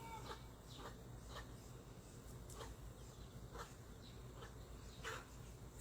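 A hen clucks softly and repeatedly with her five chicks nearby, small peeping calls scattered throughout, all faint and distant outdoors.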